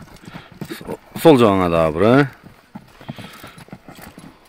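Horses walk with irregular hoof clip-clops close by, while someone speaks loudly over them in short phrases.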